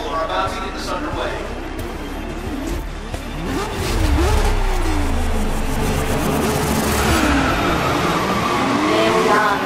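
Race cars in the Grid 2019 video game launching off the starting grid, a roaring pack of engines revving and climbing in pitch, growing louder midway with tyre noise, under a voice talking.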